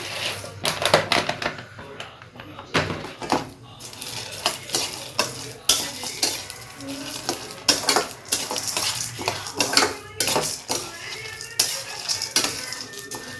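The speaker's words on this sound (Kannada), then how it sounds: "ನೆಕ್ಸ್ಟು ಸನ್ಫ್ಲವರ್ ಸೀಡ್ನ ಹಾಕೋತಾ ಇದ್ದೀನಿ" Sunflower seeds being dry-roasted in a pan, a busy run of rattling, scraping spoon-and-pan clatter in irregular bursts, close and fairly loud, with no talk.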